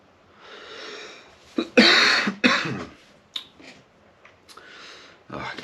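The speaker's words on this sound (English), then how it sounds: "I got this cough" Several harsh coughs and throat-clearing bursts come in quick clusters, close and fairly loud, separated by short quiet gaps.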